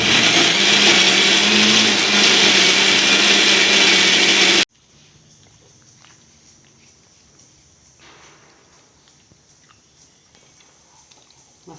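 A mixer grinder grinding masala with onion roars loudly and steadily for about four and a half seconds, then cuts off abruptly, leaving quiet kitchen handling noises.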